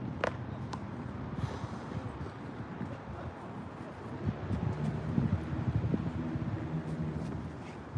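Wind buffets an outdoor microphone on a tripod during a bodyweight leg workout, a steady rough rumble and hiss that swells and churns throughout without pause.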